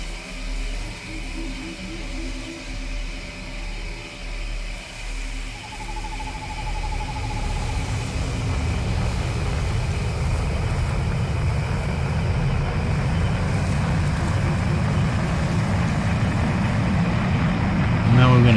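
A spaceship engine in the game Dual Universe, over the planet Alioth, fires up into a deep rumbling roar that builds and then holds loud and steady, with a voice present.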